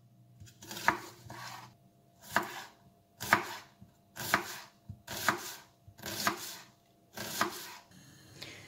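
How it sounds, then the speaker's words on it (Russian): Rhythmic knife strikes on a cutting board finely chopping onion, about eight evenly spaced chops, close up with quiet pauses between them. "мелко нарезаю лук."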